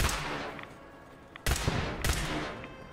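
Gunfire in the video game Fallout 4: three sharp, loud shots spaced about half a second to a second apart, each ringing off into a brief tail, with no talking.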